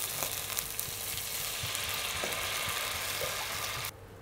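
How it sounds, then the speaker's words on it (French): Vegetables sweating in a pan with a pinch of fine salt for a chestnut velouté, a soft steady sizzle with light stirring noises that cuts off abruptly near the end. "Faire suer avec une pincée de sel fin et cuire environ 2 minutes"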